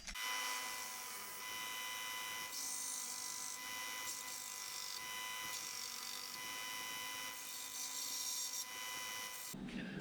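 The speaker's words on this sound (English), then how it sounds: "with this here Harbor Freight belt sander" A Harbor Freight belt sander runs steadily, flattening the edge of a metal bracket for a UTV exhaust build, with a continuous loud whine and grinding hiss throughout that stops abruptly near the end.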